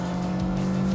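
Toyota AE86 Trueno held at full throttle, its engine giving a loud, steady droning roar that holds one pitch through a brief burst.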